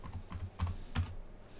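Keys on a computer keyboard being pressed to enter a password, a few quick clustered clicks in short bursts, close and fairly quiet, with no talking.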